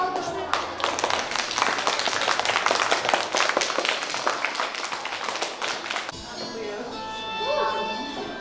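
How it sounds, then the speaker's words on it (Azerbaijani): Parents applaud at a school event, a crowd of hands clapping steadily for about six seconds before the applause stops and a voice speaks over a quieter room. "Valideynlər alqışlar."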